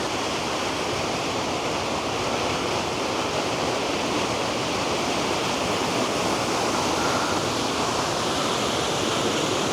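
Steady, dense roar of rushing water, continuous and broadband throughout, like a waterfall close by with no other sounds.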